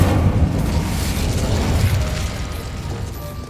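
In Hogwarts Legacy, the Incendio fire spell goes off as a loud, booming burst of flame that whooshes and rumbles, then slowly tapers off.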